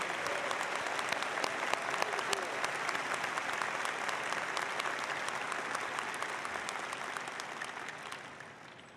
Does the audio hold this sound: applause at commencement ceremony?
yes